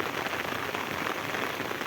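Heavy rain pours down steadily in Vejalka during a storm, a dense, continuous hiss of drops striking surfaces close by, loud and unbroken with no voices.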